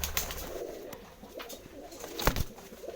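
Domestic pigeons coo in soft, throaty calls close by on a rainy day, mixed with a few sharp clicks and brief wing flutters.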